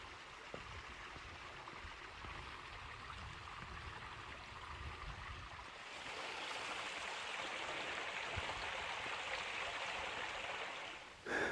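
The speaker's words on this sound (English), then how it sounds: "stood at the top of the falls. They're barely flowing today" Steady running water hisses and rushes throughout, a waterfall on the Gibb River Road at low flow heard from the top of the falls, growing a little fuller and brighter partway through.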